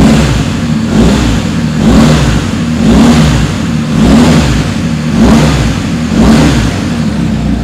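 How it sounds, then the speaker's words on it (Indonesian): A BMW R 1250 GS Trophy Adventure two-cylinder motorcycle engine revs repeatedly, loud and close, rising and falling in regular swells roughly every second over a steady idle. "2 silinder, mesinnya cukup halus."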